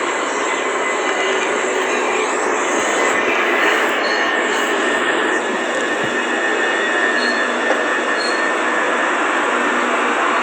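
A 10-coach train bound for London Bridge rumbles steadily and loudly at close range, with a constant rolling roar, faint high wheel squeal and brief clanks throughout, and no talking.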